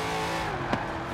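A car accelerating in Forza Horizon 4, a sustained near engine roar with steady pitch and a brief click partway through.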